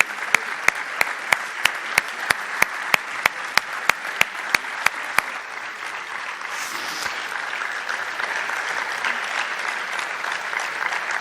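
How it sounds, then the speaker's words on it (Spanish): A run of sharp, evenly spaced claps opens, then gives way to sustained, fairly loud applause from the audience at an annual investment strategy conference. "Un aplauso para él."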